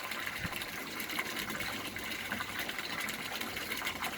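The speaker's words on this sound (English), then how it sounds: "I suspect that the water's on a little bit too hard." Water gushing steadily through an aquaponics bell siphon with the inflow running a bit too hard, a continuous close, fairly quiet rushing and gurgling.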